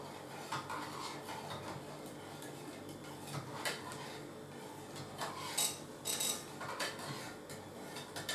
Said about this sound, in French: Maintenant, on va reprendre notre cuillère à soupe et mélanger délicatement pour ne pas tout renverser.